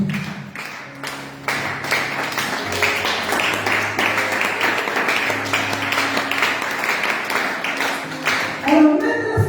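A church congregation breaks into sustained applause during a service, a dense wash of many hands clapping that swells near the end, with a voice faintly audible under it.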